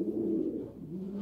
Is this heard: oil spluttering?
no